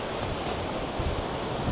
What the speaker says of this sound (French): Il y a beaucoup plus de vent, mais il est hyper chaud